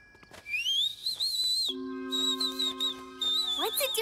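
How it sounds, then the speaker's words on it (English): A bird calls at night in a cartoon scene, giving a series of high, whistled tones that rise and hold, broken by short chirps and sustained pure notes, clear and close. "There! A bird!"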